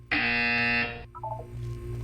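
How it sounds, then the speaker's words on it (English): A loud, steady electronic buzzer from the Portal 2 video game sounds for about a second, then a short descending run of soft chime tones follows over a low background hum. "When you hear the buzzer, look up at the ceiling."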